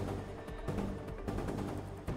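A .338 Lapua Magnum rifle shot in the ArmA 3 video game rings out sharply over steady battlefield ambience, with a second loud crack near the end.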